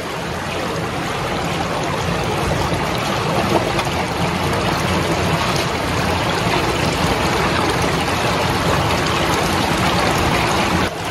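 A small river in rural southern Brazil rushes steadily, with water also gushing from a pipe up front; a loud, continuous broadband wash with no pauses and no voices.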